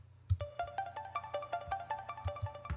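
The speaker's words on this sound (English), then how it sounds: "as well as another ARP that comes in later as well that sounds like this." A bright synth arpeggio layer in a remix ripples in quick repeating notes over a low pulsing beat, steady and upfront with no voices.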